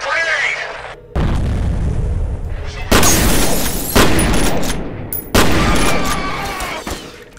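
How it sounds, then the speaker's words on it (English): Grenades and gunfire in the shooter game F.E.A.R. go off as several loud, sharp blasts in quick succession, each booming burst followed by a short decaying rumble. "Watch out, grenade!"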